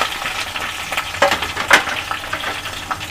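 Chopped tomatoes hit hot oil with mustard seeds, chillies, fenugreek and curry leaves for tomato rasam, giving a close, loud sizzle and crackle with scattered stirring clatters.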